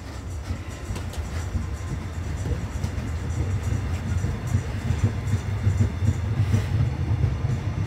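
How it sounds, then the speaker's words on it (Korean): A train rumbles steadily into a Korean station on the line bound for Masan, a loud continuous low roar of wheels and carriages that swells slightly toward the end, with no talking over it. "이제 마산 열차행이 온답니다."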